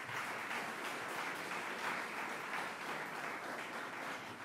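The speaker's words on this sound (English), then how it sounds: "Let's give him a big round of applause again." Steady applause from an audience at a Rochester, New York press event, dense and continuous, sustained evenly for the whole stretch at moderate distance.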